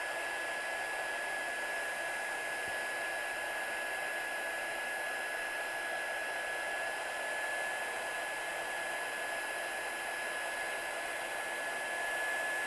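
A heat gun run really hot to heat-set clear embossing on card, giving a steady, loud, continuous blowing hiss with a faint high whine, running unbroken throughout with no talk.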